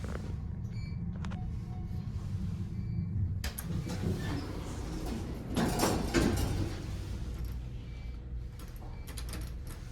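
A Schindler MT hydraulic elevator from the late 1990s in a mall sporting goods store slides its door with a rumbling mechanical sweep, then a clunk, under steady low machinery hum.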